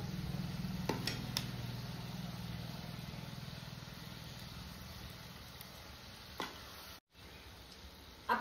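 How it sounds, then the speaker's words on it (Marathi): Modak dumplings deep-frying in hot oil until red-golden, a steady, soft, low sizzling bubble that carries on without a break and fades slightly toward the end. "मोदक आपल्याला लाल सोनेरी कलर येईपर्यंत तळून घ्यायचे"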